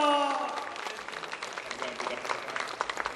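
A Korean church congregation breaks into applause as a visiting pastor comes up, a short vocal shout at the start giving way to steady, lively clapping from many hands.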